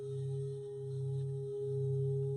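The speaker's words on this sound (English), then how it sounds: "when I press really lightly, you get this great harmonic tone out of it" A singing bowl rubbed lightly with a stick, giving a steady sustained harmonic ring with a gentle slow swell in loudness, soft and close with no talk.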